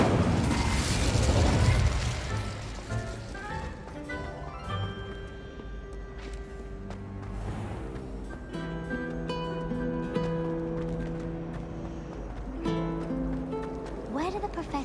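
A burst from the Incendio fire spell in Hogwarts Legacy opens with a loud, rumbling blast in the first two seconds, then fades into layered game music and magical tones that continue under speech.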